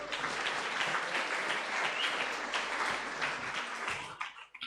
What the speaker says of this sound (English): can we give them a round of applause before I come to you?